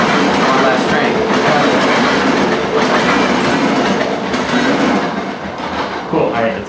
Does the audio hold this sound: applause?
no